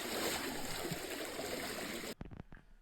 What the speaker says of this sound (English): it's a good idea to wash the filetto once it's ready directly in the sea